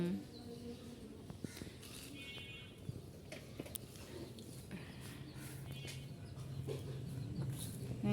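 Chickens cluck intermittently over a busy, noisy outdoor background, with a few higher calls standing out now and then.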